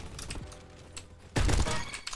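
Video game gunfire bursts in with a loud, dense volley partway through, after a stretch of quieter game background noise with scattered softer shots, and the rapid fire keeps going to the end.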